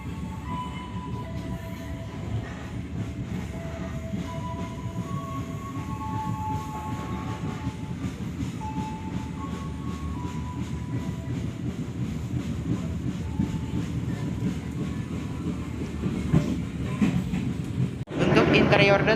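A Tegal Bahari business class train pulls away from Cirebon Prujakan station, its steady rolling rumble and faint wheel clatter heard from inside the carriage, with a few soft tones over it and a louder burst near the end.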